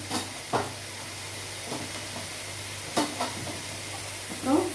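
Tomato and grated coconut sautéing in oil with chili powder for an egg gravy, a soft continuous sizzle with occasional spoon stirs and scrapes in the pan.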